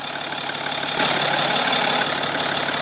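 A 2015 BMW X5 with a 3.0 L six-cylinder turbo diesel idles nearby, a steady rumbling drone that swells slightly for about a second before settling back.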